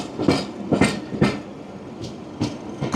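A pair of Class 20 diesel locomotives roll past on the Severn Valley Railway, their wheels producing a steady, rhythmic clickety-clack of regularly spaced beats at moderate distance.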